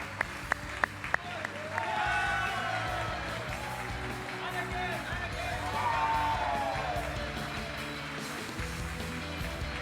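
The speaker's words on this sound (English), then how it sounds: "give them another round of applause" A crowd at an awards ceremony breaks into sustained applause that swells and carries on for several seconds after a few sharp taps at the start.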